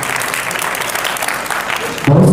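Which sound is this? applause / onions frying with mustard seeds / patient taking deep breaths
applause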